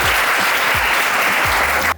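Audience applause at a college motivation event fills the space in a steady, dense roar of many hands clapping, loud and continuous with no talk over it, cutting off abruptly at the end.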